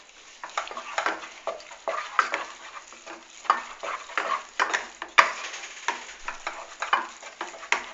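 Choux pastry dough stirred in a saucepan over low heat: repeated scraping and slapping strokes in an uneven rhythm, close and fairly loud, with one sharp knock midway.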